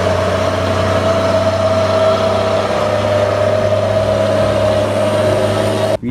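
A box truck engine idles steadily throughout, a loud, constant low hum with a tonal drone, close by and alone with no talk, cutting off abruptly at the very end.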